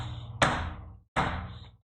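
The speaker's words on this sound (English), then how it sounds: "I wasn't expecting just a full-on thud." A rubber chicken toy strikes something twice, producing two dull, solid thuds about three-quarters of a second apart, each followed by a short fading rattle, close and without talk.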